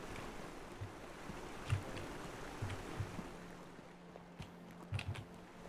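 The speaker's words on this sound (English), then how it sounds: "It's another waterfall." A waterfall in the video game Taiji gives a steady, faint rushing wash of water with low rumbling swells, heard alone without talk.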